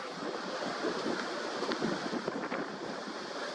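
Ocean waves and tide washing onto a sandy beach, a steady broad surf wash with wind buffeting the microphone, continuous and fairly close, with no speech.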